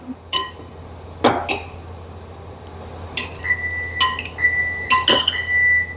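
Dishes and utensils clink and clatter in scattered bursts, with a few sharp ringing taps as food from an Unox SpeedX combi oven, including eggs, is set down on plates.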